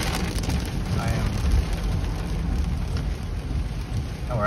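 Heavy rain pounds down in a summer thunderstorm with a flash flood, a loud continuous drumming wash with low thunder rumbling underneath and some wind buffeting, heard close throughout.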